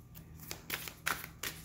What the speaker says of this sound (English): let me get another good shuffle